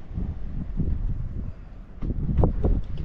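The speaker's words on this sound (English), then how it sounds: "You can hear that wind coming in from the north" Cold wind blowing in from the north, a low rumbling gusty buffeting against the microphone, steady and close, swelling stronger in the last second.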